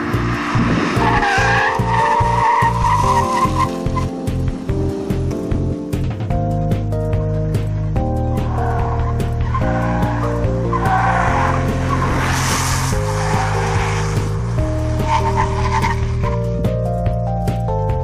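A Suzuki Vitara accelerates hard during a 0–100 km/h test, its tires squealing loudly while the engine note climbs and steps through gear changes, close and continuous with no talking.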